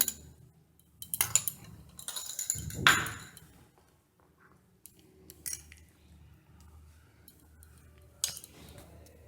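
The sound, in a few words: mixing egg into dragon chicken with spoon in bowl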